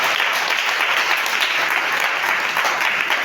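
A church congregation bursts into sustained applause to acclaim Jesus, a dense, even clapping from many hands that holds steady for a few seconds with no voices above it.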